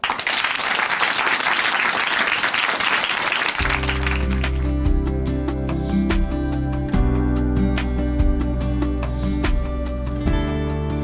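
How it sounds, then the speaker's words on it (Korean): A church audience applauds as a speaker is welcomed on stage, dense loud clapping for about three and a half seconds, then music takes over and continues to the end. "춘천 한마음교회 정다희 자매님 박수로 모십니다"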